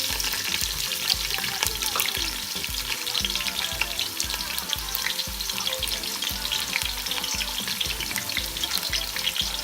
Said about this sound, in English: first I will be just adding my onions in here